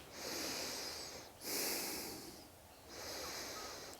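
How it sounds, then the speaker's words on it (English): Slow breathing through the nose during a yoga session, three long airy breaths with soft swells and brief pauses between them, close to the microphone and fairly quiet, with no voices. "Breathing through the nose."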